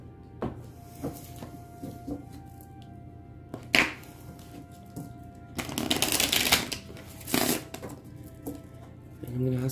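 Tarot cards are shuffled by hand in scattered bursts, with soft riffling and a denser flurry midway, close and fairly quiet with no talk over it.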